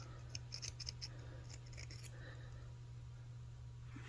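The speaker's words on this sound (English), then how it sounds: "these poor little scissors, I've used them so much, they're so dull that in order to get them to cut" Dull small scissors snip beading thread while making netted drop earrings, a quick cluster of faint, close crisp clicks early on, then quiet with a steady low hum underneath.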